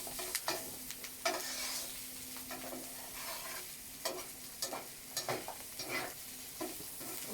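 Sugar caramelizing in a pan over a campfire, a soft continuous sizzle with scattered stirring scrapes and clinks, close but fairly quiet.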